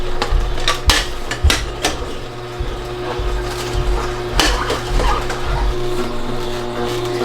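A Kuvings REVO830 slow juicer crushing apple and fresh garden produce: a low steady motor hum with irregular knocks, cracks and clunks as chunks break down, fairly loud and close, with little talk.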